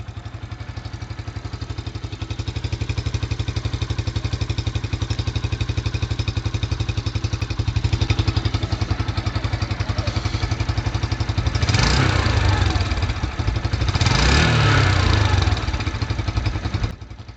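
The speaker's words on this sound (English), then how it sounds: "Let's start it up and have a sound of the engine." A Yamaha YBR 125 motorcycle engine idles steadily close by with an even, rapid putter, and two brief revs rise and fall near the end.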